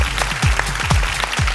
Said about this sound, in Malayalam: ഇതിനൊരു നല്ല കൈയടി.